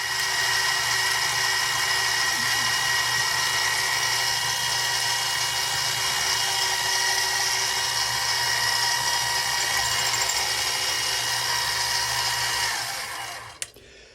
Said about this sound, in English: my 5/16 thong hole set up to drill